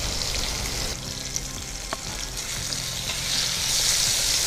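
Four garlic cloves frying in a pan for a Kannada okra chutney, with a steady close sizzle throughout and a few brief clinks of stirring.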